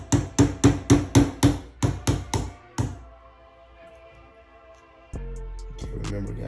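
About a dozen sharp, evenly spaced metallic taps as a hammer drives a 1/16 hole punch against a Glock trigger pin, loud and close, then quiet with faint handling clatter.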